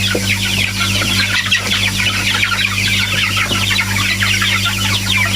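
Chickens and young chicks clucking in a farmyard after rain, a busy, continuous chorus of overlapping clucks close by over a steady low background hum.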